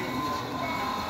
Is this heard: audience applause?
no